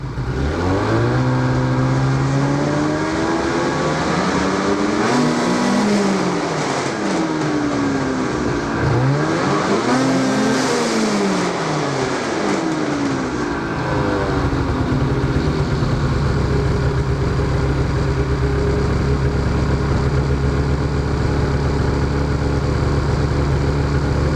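A 2010 TNT engine, freshly fitted with a Boyesen part, is revved repeatedly from idle up to high RPM, with loud rising and falling sweeps, then settles into a steady, close, loud hum.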